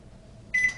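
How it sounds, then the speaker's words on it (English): Amazon Smart Oven starting to microwave chicken nuggets: a low quiet hum and then, about halfway through, a sudden louder steady tone with bright electronic ringing that holds to the end. "microwave for 2 minutes"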